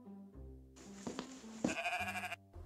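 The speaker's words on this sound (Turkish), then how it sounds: "Benim yatağımda da bir keçi var." A cartoon goat bleats in an animated scene, a few wavering cries over a background music bed, fairly close and clear without talk.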